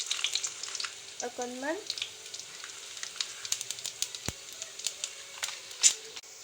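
Whole cumin seeds hit hot oil in a pan along with ginger, garlic and green chillies, giving a close, crackling sizzle with scattered pops and a clink or two, and a brief voice speaking at the start.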